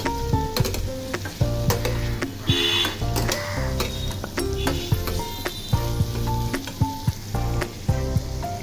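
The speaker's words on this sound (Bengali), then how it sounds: "এরপর দিয়ে দেবো ডুমো করে কেটে রাখা পেঁয়াজ কুচি। এরপর ভালো করে মিশিয়ে নেব।" Diced onions sizzle in hot oil in a pan while a spoon stirs them with repeated scraping knocks, close and steady, with no voices over the frying.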